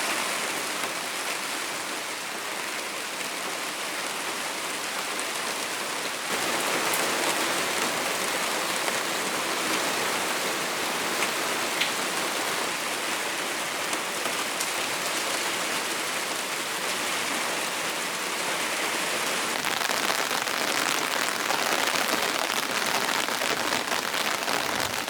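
Steady rain falls outdoors in a continuous, fairly loud wash of dense drops that thickens slightly partway through, with no talking.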